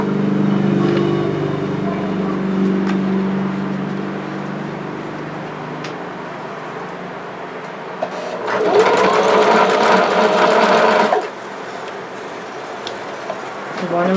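A sewing machine stitching elastic onto ruffle skirt fabric runs in a loud, steady burst of fast mechanical whirring for a few seconds, between quieter stretches of handling noise at close range.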